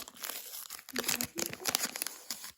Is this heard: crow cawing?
no